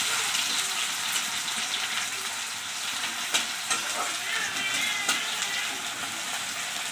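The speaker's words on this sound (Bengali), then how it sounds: "পেঁয়াজ কটা ভালো করে লাল লাল করে ভেজে নেব" Sliced onions frying in hot oil until browned, a dense continuous sizzle close up with scattered scraping stir strokes, no talking.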